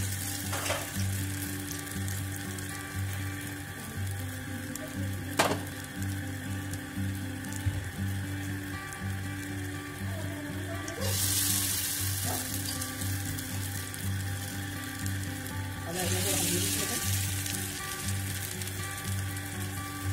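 Potato and pea kababs frying in hot oil give a steady, close sizzle that runs throughout, swelling into louder bursts of crackle now and then, with no voices.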